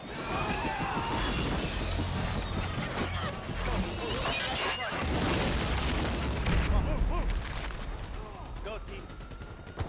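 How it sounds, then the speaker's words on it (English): In GTA 5, a helicopter is shot down and crashes behind a building, with repeated loud gunfire bursts and heavy booming explosion impacts that run continuously and densely throughout. "we take out this chopper which crashes just behind the building in front"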